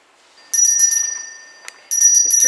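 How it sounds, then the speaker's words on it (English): A handheld bell rung in quick, bright bursts, like a holiday collection-kettle bell, loud and close, with a pause between two clusters of rings. "a superhero wears a smock and rings a bell"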